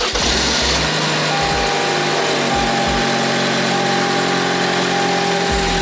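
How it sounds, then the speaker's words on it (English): A new car's engine turns over and settles into a steady, loud idle, with a low rhythmic throb and constant hum close by. "So, turn on the car."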